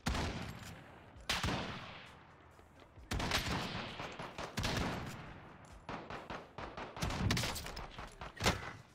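Gunfire from an online shooter video game, with repeated sharp cracks spaced irregularly over several seconds, loud and close, some shots echoing into a noisy background.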